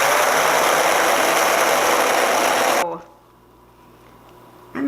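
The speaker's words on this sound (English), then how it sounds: "Now we're going to use, she said blender, but I'm using immersion blender." An immersion blender whirs loudly and steadily through an ice cream mixture in a bowl, a dense motor roar that cuts off abruptly partway through, leaving a quiet room hum.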